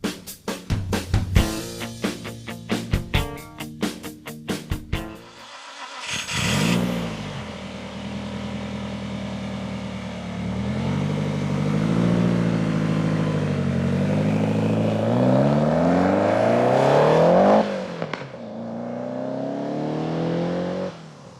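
A Lotus Esprit V8 fires up with a burst of ignition noise, then settles into a steady engine drone that builds through rising revs and gear changes while driving, heard close inside the car with no voices.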